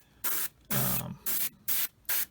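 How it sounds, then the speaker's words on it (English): Short bursts of an airbrush or spray can coating parts of a 1/35 Tamiya Sd.Kfz. 250/3 Greif model kit, five hissing sprays of uneven length separated by brief pauses, close and fairly loud. "I'd still be able to spray with it"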